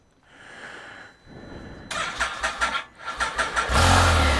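A 2020 Can-Am Spyder F3-T with battery and VSS problems cranks in short rhythmic bursts, sputtering unevenly for a couple of seconds before catching briefly into a louder rumble.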